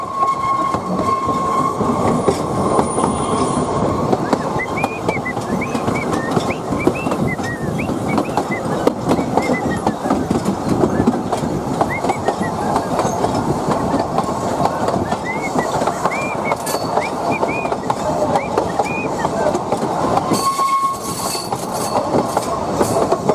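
Train carriages rumble along the rails in a loud, continuous roar with rhythmic clatter and recurring high wheel squeals, heard from inside with faint voices under the noise.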